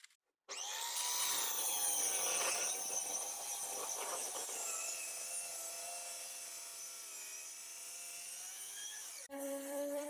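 A hand saw cuts through a wooden loft-style shelf board to shorten it, a steady close rasping stroke lasting several seconds before stopping abruptly, with no talking.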